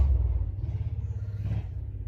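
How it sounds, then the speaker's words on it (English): A loud truck passes with a deep, throbbing engine rumble, close and heavy at first and then pulsing steadily as it goes by, with no talk over it. "that is a very loud truck."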